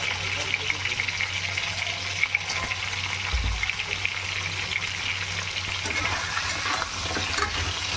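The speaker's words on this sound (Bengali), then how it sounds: "এ কাঁকড়াগুলো ভেজে নিতে হবে অল্প আঁচ রেখে" Sea crabs frying in a pan on low heat with potatoes in a home kitchen, giving a soft, continuous sizzle with faint stirring, heard close and fairly quiet.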